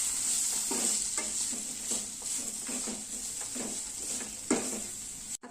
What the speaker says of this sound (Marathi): आता हा सगळा मसाला व्यवस्थित परतून घ्यायचा आहे।